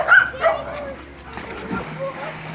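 Dogs at a Fourth of July pool party yip and bark in short bursts near the microphone, with people talking over them and background chatter throughout.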